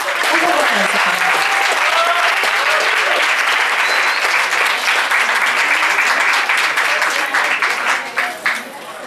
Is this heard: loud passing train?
no